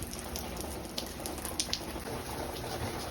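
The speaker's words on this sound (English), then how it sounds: "Who would have thought we'll be getting rain right now" Steady rain falls in Houston, a soft continuous patter of drops on surfaces with a few brighter splashes, heard outdoors at moderate distance without talk.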